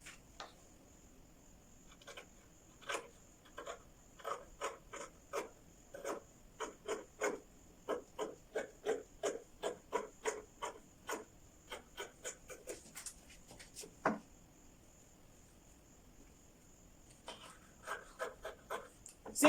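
Scissors cutting out fabric for a pencil skirt, a quiet run of rhythmic rasping snips and crunches close by, pausing briefly before a few more strokes.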